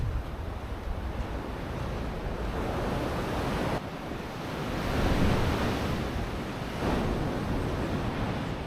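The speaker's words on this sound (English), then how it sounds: "the ocean is super powerful over here" Powerful ocean waves crash and wash steadily on a Bali beach, a dense roaring surf with swells rising and falling and some wind buffeting the microphone, with no voices.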